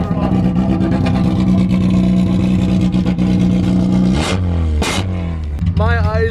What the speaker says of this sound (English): Alright, we cut the muffler off.